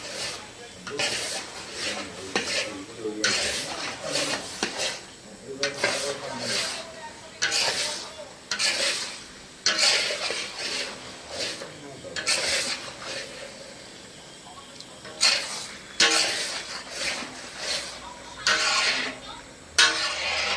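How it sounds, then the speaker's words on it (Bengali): Marinated mutton sautéed in a pan, with repeated bursts of hissing sizzle and scraping as it is stirred, rising and falling in an uneven rhythm over about twenty seconds. "ম্যারিনেট করা মাটনটা চলে এলো। এবার সুন্দর করে কষানো হবে, একদম সুন্দর করে।"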